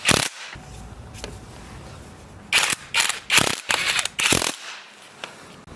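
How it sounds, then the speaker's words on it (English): A ratcheting M8 socket wrench tightens the four bolts on an Xpro motorcycle part, giving several short bursts of rapid metallic clicking close by, separated by brief pauses with no talking. "Then tighten the 4 bolts with an M8 socket."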